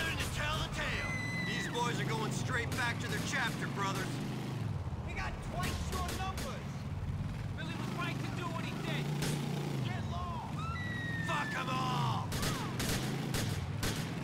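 Gunfire in the video game GTA IV: The Lost and Damned, with repeated sharp shots and bursts over a steady din of game engine and ambience, loud and continuous throughout.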